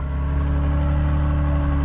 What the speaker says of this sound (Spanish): Parece súper curioso cómo suena este escape.